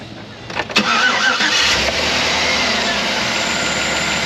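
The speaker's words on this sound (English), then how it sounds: "Lauren, please start the engine." A Chevrolet Tahoe or Silverado engine with a brake booster vacuum fault cranks briefly and catches, then settles into a steady idle that continues loudly to the end.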